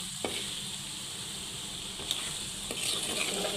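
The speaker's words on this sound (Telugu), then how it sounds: "అల్లం పేస్ట్ బాగా ఫ్రై అయిపోయింది" Ginger paste frying in a pan while making chicken pickle, a steady close sizzle with occasional soft stirring scrapes.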